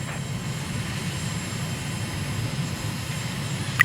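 A jet aircraft approaches to land in Microsoft Flight Simulator near Vilnius, Lithuania, its engines a steady, even drone under a low rumble throughout, with a brief click at the end.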